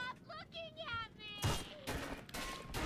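Gunfire in BioShock 2 arrives as a sudden loud volley of shots after a stretch of quieter game sounds, then keeps going in several sharp bursts.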